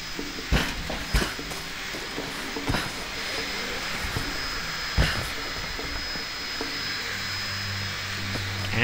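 A helicopter in the Tomb Raider video game gives a steady, droning engine and rotor hum, with sharp mechanical knocks and clicks scattered over it at moderate volume.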